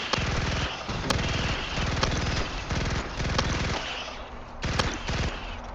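An SMG in Starship Troopers: Extermination rattles out rapid automatic bursts, several close, loud strings of shots broken by short pauses, heavy and dense throughout.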